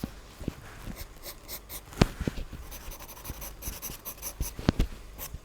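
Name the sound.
drawing and smudging on Canson paper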